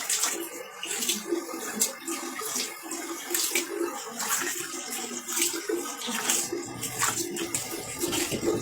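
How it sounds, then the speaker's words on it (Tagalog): Water runs steadily from a tap while a face product is rinsed off, a continuous close splashing hiss with small irregular splatters and no talking over it. "Pero tara na, banlawan na natin."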